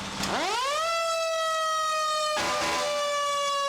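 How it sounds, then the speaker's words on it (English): A loud fire engine siren winds up from low to a high steady wail, dips briefly, then holds its tone again close by. "the fire engines revved, and sirens ready to go."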